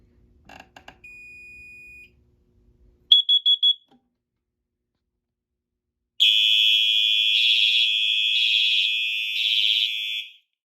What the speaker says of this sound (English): I'm going to go ahead and activate the CO detector